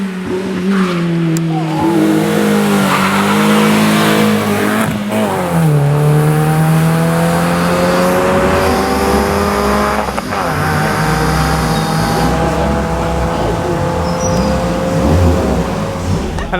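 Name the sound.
rally car racing in a hill climb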